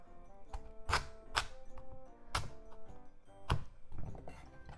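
A knife chops down through a hard kabocha squash on a board, making a series of solid, close-up thunks in an uneven rhythm.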